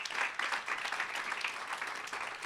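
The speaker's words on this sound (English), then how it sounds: "You can clap for that." Audience clapping at a business meeting for an airport business diversity conference, a steady wash of applause from a crowd lasting a few seconds with no talk over it.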